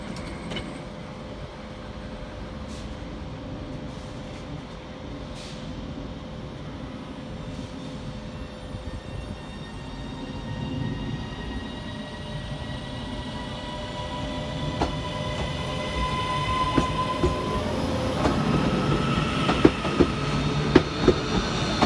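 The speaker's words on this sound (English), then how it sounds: "departing 5 minutes late with the 1718 Northern service from Blackpool North through to Manchester Airport" A Northern Class 331 electric train departs Manchester Piccadilly during rush hour, its rumble and motor whine building steadily, with rising tonal hum and clicking wheels growing louder toward the end.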